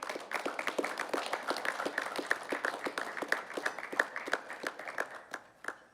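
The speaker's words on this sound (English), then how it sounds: "please applaud those who are here tonight for you" Guests at a scholarship awards dinner clap in a close, sparse burst of distinct hand claps that tapers off near the end, with no talk over it.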